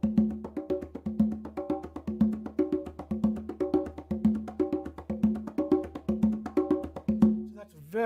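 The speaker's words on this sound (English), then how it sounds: "lots of rhythms sound great on congas, especially samba, bayon," A samba rhythm is played on congas, steady repeating bars of open tones and muted heel-toe strokes, close and clear with nothing else over it.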